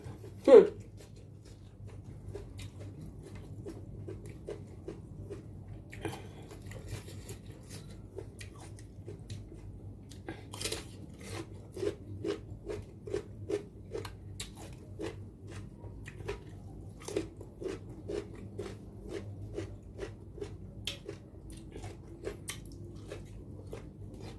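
Quiet crisp crunching bites of crunchy raw vegetables, including bitter gourd, eaten with spicy shrimp and squid salad, repeat irregularly over a low background hum, growing more frequent as chewing continues close by.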